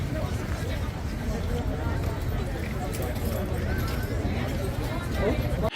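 Steady clip-clop of a royal guard's horse's hooves on pavement under a constant crowd murmur of tourists, with people chattering nearby throughout.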